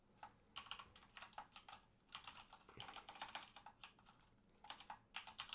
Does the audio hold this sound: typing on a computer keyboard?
yes